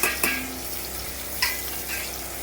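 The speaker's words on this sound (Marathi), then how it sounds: "आता मस्तपैकी ढवळून घ्यायचं आहे आणि परत त्याच्यावरती टोमॅटो टाकायचा आहे" Onions and tomato sizzle in a hot frying pan while being stirred, with a steady frying hiss broken by a few sharp scrapes and clinks of the spoon against the pan.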